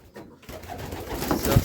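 Pigeons in a village dovecote coo softly and rise to a louder, close coo near the end.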